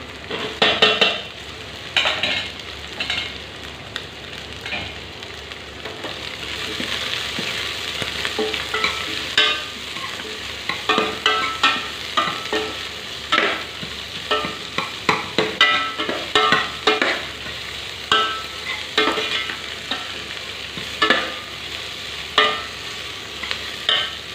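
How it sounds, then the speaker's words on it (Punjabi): Onions frying in a pan for Punjabi besan kadhi, a steady close sizzle with repeated stirring scrapes and clinks that grow busier and more rhythmic toward the end, with no voices. "ਹੁਣ ਆਪਾਂ ਪਿਆਜ਼ ਪਾ ਦਾਂਗੇ"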